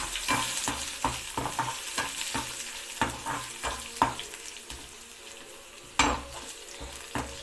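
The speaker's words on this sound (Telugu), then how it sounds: "పోపు వేయించుకొని" Spices and asafoetida are being tempered in hot oil for an okra bajji recipe, with steady frying under a string of sharp spoon taps and scrapes against the pan, heard up close.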